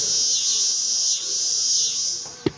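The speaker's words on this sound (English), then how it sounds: "They also show off our famous cicada sound effect" Cicada sound effect from a model railroad sound module: a steady, loud, high buzzing drone that swells and dips slightly, ending with a brief sharp click.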